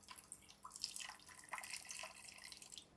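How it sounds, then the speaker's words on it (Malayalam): A little water is poured while cooking a Kerala sadhya-style banana payasam, giving faint, close trickles and drips that come in uneven bursts, with no one talking. "കുറച്ച് വെള്ളം ഒഴിക്കുന്നു കേട്ടാ."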